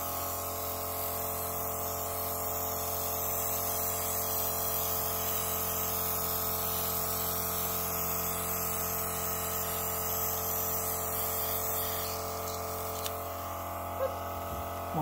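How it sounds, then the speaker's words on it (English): An airbrush sprays purple colour onto a decorated picture cookie, giving a steady, close hiss over a constant low compressor hum for most of the stretch, then a few faint clicks near the end. "Airbrushing this way, where it's broad and diverse, really does soak up your product"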